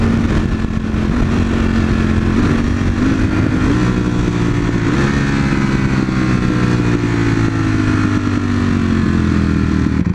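A motorcycle engine held in sixth gear drones loudly and steadily, its pitch shifting slightly as the revs change, with no voices over it.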